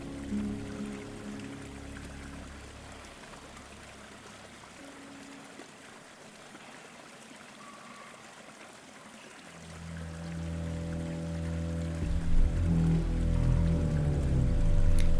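A waterfall in the video game Clair Obscur gives a constant, soft rushing wash of falling water, with low tonal game music rising and growing louder toward the end.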